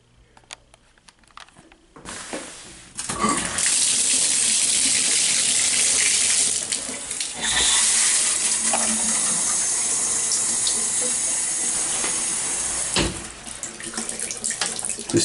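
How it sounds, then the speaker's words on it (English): Water from a hotel room shower pours in a steady, loud hiss for about ten seconds after a few quiet clicks, then cuts off and trails into faint drips and handling sounds. "This switch here is to turn on the shower"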